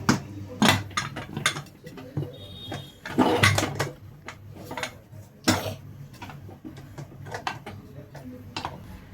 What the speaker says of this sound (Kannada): ಇವಾಗ ಕುಕ್ಕರ್ ಲಿಡ್ಡನ್ನು ಕ್ಲೋಸ್ ಮಾಡ್ಕೊಂಡು ಬಿಡೋಣ.